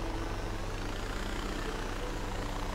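A low, continuous helicopter engine drone with a steady rotor thrum in the video game Far Cry 4, constant in level throughout the short stretch, with no speech.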